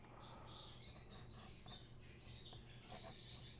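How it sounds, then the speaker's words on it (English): Birds chirp and twitter continuously in the background, faint and distant, over a low steady hum with no talking. "You guys can hear the birds."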